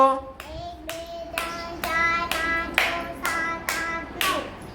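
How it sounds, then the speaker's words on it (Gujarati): Children in a kindergarten counting activity clap their hands nine times in a steady, evenly spaced rhythm, each sharp clap clear and close, with faint room sound between. "નવ તાળી પાડો"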